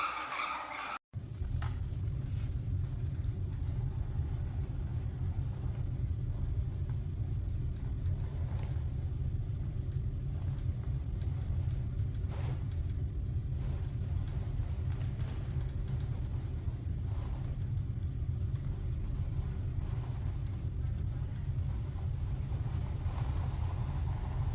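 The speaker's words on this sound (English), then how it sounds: "After putting the weights on, you can see this truck can really climb, given if you give it good traction." Small 1/10 scale Ford F150 Raptor Baja RC crawler truck with added weights climbing, its electric motor and gears whining in a steady buzzing drone with faint tyre scrabbles, close and continuous after a brief click at the start.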